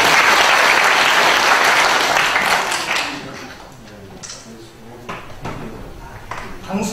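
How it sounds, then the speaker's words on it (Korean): Audience applause at a book concert event in Jeju, loud and dense at first, then thinning after a few seconds into scattered claps and murmuring voices. "힘찬 박수."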